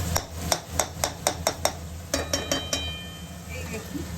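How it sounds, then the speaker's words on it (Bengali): A metal spatula clinks and scrapes against a wok in quick, regular strokes, about a dozen sharp hits with a brief pause midway, close and fairly loud. "কড়াইতে নাড়তে নাড়তে মনে হচ্ছে হাফ হয়ে যাবে।"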